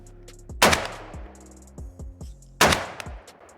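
Rifle fired with a muzzle device outdoors: two loud, sharp gunshots about two seconds apart, each with a long booming decay, plus fainter distant shots between them.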